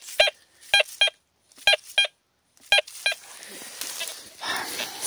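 Several short electronic beeps in irregular pairs and singles from a metal detector, close and clear, followed by faint rustling and background noise.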